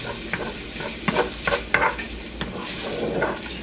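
Onions and garlic fry with ground chuck in a pan, sizzling softly while a utensil stirs and scrapes, giving a few sharp knocks and clinks against the pan; close, fairly quiet and without speech.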